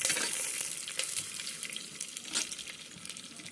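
Green chillies tossed into a couple of spoons of hot oil with crackling cumin and tempering seeds, giving a steady close sizzle and spatter with brief sharper pops, no voices.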